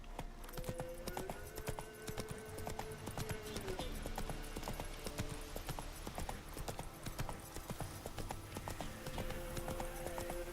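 Roach the horse gallops in The Witcher 3, with steady rhythmic clip-clop hoofbeats carrying throughout, close and continuous, over game music with brief tonal lines.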